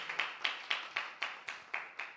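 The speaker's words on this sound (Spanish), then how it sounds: "Dele fuerte ese aplauso a Dios en esta preciosa tarde." A church congregation claps together in a steady, even rhythm, about eight sharp beats in a couple of seconds, with no talking over it.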